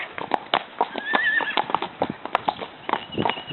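Morgan gelding horses in a pasture give a rapid series of close, loud hoof-like thuds, with a high whinny rising briefly in the middle.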